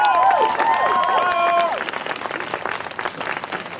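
Festival audience at Climapalooza clapping and cheering, a dense wash of applause in the crowd, with a voice talking over the first half before the clapping carries on alone.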